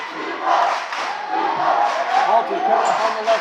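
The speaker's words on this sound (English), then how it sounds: "a little life from the neon-dressed Oran cheering section." Neon-dressed Oran student cheering section at a varsity boys basketball game, a crowd cheering and yelling in a lively, sustained roar with rising and falling surges.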